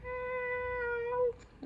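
A person imitates a cat's meow with one drawn-out, tonal, close vocal mew that falls off at the end, quiet and alone.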